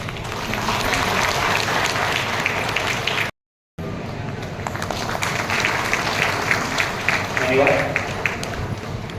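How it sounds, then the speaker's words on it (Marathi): Wedding guests clapping together in a hall, a sustained dense patter of applause that briefly cuts out, then resumes, with murmured voices mixed in. "तेव्हा तुम्ही सर्वांनी टाळ्या वाजवाव्या."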